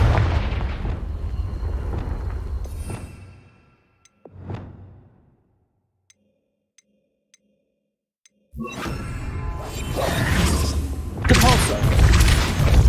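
Confringo blasting curse explosions in Hogwarts Legacy: heavy roaring blasts, a sharp whooshing burst in the middle, a near-silent stretch with faint ticks, then another loud, sustained wave of booming impacts.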